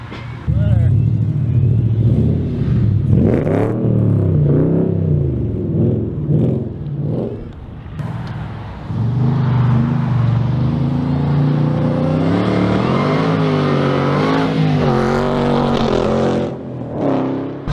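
A 2016 Mopar car with a stage 5.5 build running 19 pounds of boost and a cold-air intake revs up and down repeatedly nearby, loud and rumbling, while people talk over it.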